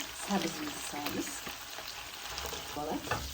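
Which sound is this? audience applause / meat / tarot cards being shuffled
meat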